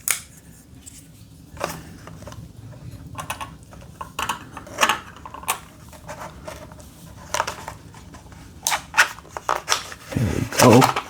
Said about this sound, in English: Let me get a knife to open this.